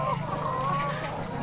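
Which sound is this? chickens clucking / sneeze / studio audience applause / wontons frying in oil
chickens clucking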